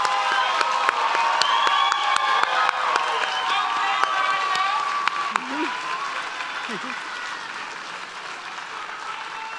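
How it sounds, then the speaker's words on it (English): Graduation audience for respiratory therapy students claps and cheers in a loud, dense wash, with shouts and whistles rising above the steady applause before it begins to thin slightly. "let's give the students a big round of applause for all their hard work"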